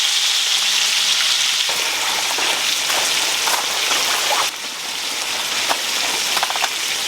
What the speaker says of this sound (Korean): 이 고기 기름에 튀겨야 김치는 제맛이야